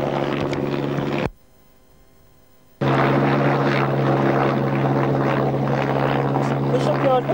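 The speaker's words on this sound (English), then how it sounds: "Look at that fucking helicopter." A helicopter roars loudly with a steady droning rotor hum, cutting out briefly near the start before returning at full strength.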